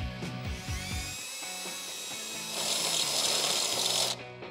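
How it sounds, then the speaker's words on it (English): A high-pitched drill whines steadily for several seconds while drilling holes in a Jeep Wrangler JK body panel, rising slightly in pitch partway through, then cuts off abruptly. "Then we can drill out the rest of our holes for this center"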